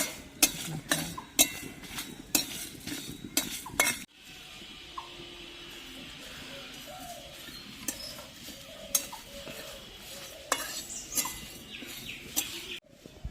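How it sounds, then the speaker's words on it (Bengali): Dry chillies roasting in a dry pan, first a run of sharp clinking spatula strokes against the metal, then a quieter rustling stretch of stirring with occasional taps, ending in another clink. "লঙ্কাটা আলাদা করে ভেজে নিচ্ছি শুকনো খোলায়।"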